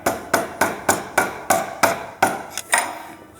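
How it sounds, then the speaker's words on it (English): A mallet taps the handle of a flathead screwdriver to drive out a motorcycle front axle during a tire change, about ten sharp, ringing knocks close by in a fairly even rhythm, the last few a little irregular. "put it in there, give it a quick tap with the mallet, and just push it out"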